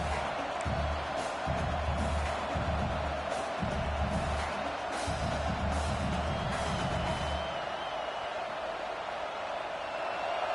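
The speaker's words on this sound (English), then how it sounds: "This crowd bringing the energy and noise early." A large stadium crowd at a football game fills the air with a steady, dense roar of noise, broad and distant-sounding, holding constant throughout.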